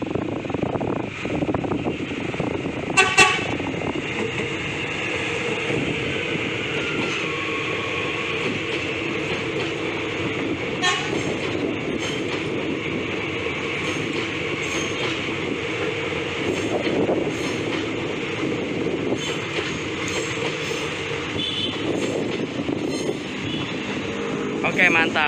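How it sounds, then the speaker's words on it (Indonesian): A Soekarno-Hatta airport train rumbles steadily past at Batuceper with rattling wheels and occasional sharp clacks as it crosses a railway switch onto the airport branch line, continuous and fairly close. "ini dia momen kereta api bandara melewati wesel pemisah dari jalur utama menuju ke jalur percabangan ke arah bandara"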